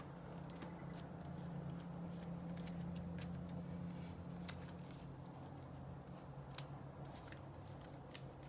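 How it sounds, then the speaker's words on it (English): A deck of Marvel Champions playing cards being shuffled, a steady run of crisp riffling taps and flicks continuing for several seconds, close and moderately quiet with no talking. "Then we shuffle our deck."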